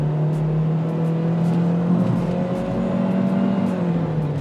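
Chery Tiggo 5X with a 1500cc engine pulling hard at full throttle, a steady droning engine tone climbing gradually in pitch over a constant road rumble, loud and close from inside the cabin.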